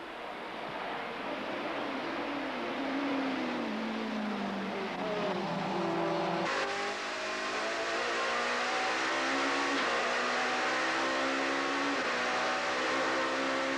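Touring race cars on the back straight of Killarney circuit in 1993, engines roaring loudly and continuously with rising and falling pitch as they accelerate, a brief shift break midway, no talk.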